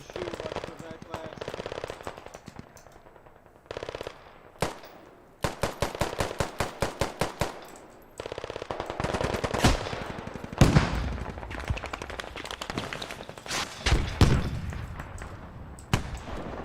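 Gunfire in a military shooter video game: rapid automatic bursts and single sharp shots, clustered and loud, mixed with game effects and a voice talking over parts of the action.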